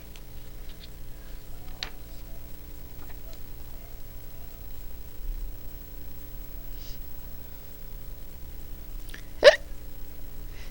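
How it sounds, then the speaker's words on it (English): A person hiccups a few times, with small sharp catches of breath spaced apart and one louder hiccup near the end, all against a quiet background hum. "You've got the hiccups"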